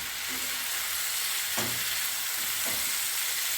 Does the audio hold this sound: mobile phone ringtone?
no